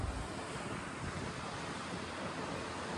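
Sea waves wash around a coastal castle in Cornwall, a steady broad roar of surf mixed with gusty wind buffeting the microphone, with no one speaking.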